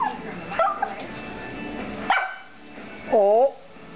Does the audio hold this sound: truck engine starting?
no